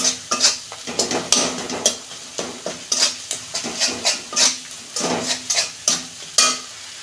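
Spice masala of ground coriander, cumin paste, turmeric, salt, green chilli and chilli powder being stir-fried in a pan for a fish curry with mixed vegetables: repeated rhythmic scraping strokes over steady close sizzling, with no voices.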